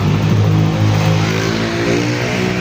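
A Yamaha NMAX V1 scooter engine, checked after running low on oil, runs close by with a loud rising and falling rev, a buzzy whine that climbs and then settles, with no voices.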